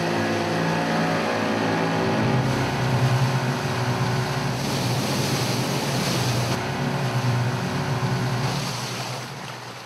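Boat engine running steadily during a French Foreign Legion exercise on the water, a continuous droning hum with wind and water noise around it, no speech.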